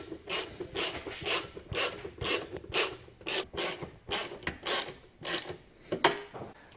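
Carriage bolts on a 15-inch Polaris-specific snowmobile stealth rack tightened with a hand tool, a steady run of about a dozen close, loud rasping ratchet strokes in an even rhythm with no talk.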